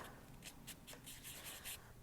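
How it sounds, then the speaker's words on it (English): Close, quiet scrubbing strokes of a 3M sanding sponge against metal clay, about half a dozen short rhythmic rubs in a row. "just use a 3M sanding sponge or a little piece of sandpaper and just give it a gentle scrub"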